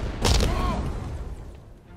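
A grenade blast in the Batman: Arkham Knight video game, a sudden loud boom with a rumbling low-end burst that decays over about two seconds, with no talking over it.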